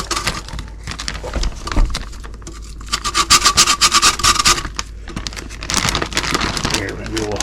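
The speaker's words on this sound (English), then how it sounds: "ginger, and then it grates nicely. You can see it's frozen." Frozen ginger root scraped across a grater in bursts of rough, rasping strokes, close and fairly loud, with pauses between runs and a speaking voice in between.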